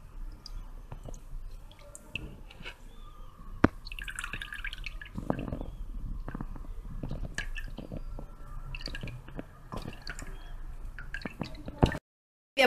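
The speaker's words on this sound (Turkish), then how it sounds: "İster süzgeç yardımıyla, isterseniz tülbente koyup sıkabilirsiniz." Homemade lemonade from whole lemons dripping and squished through a strainer or cheesecloth, soft irregular drips and wet squeezing sounds close up, faint throughout and ending abruptly.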